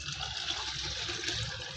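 Water poured over soaking sago pearls in a kitchen bowl, a continuous gushing, splashing pour heard close and steady throughout.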